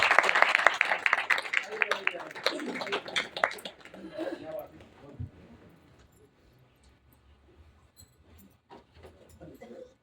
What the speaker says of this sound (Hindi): तो एक जोरदार तालियां इनके लिए भी बननी चाहिए